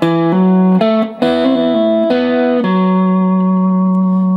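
A guitar plays a slow major blues lick of ringing notes and hammer-ons with sustained open-string harmony beneath, close and clear, ending on a held chord.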